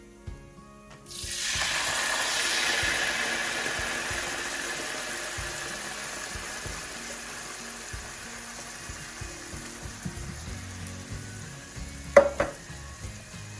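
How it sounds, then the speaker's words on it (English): Tomato puree for dal makhni hits a hot pan and bursts into a sudden hiss that slowly settles into a softer, steady sizzle, with a couple of brief clinks near the end. "Now switch on the flame once again and then add tomato puree to it."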